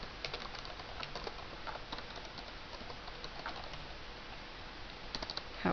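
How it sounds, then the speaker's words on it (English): Someone types on a computer keyboard in a home office, entering a name into an online form: soft, irregular key clicks in quick runs, faint and close, with no voices. "you would type in the name"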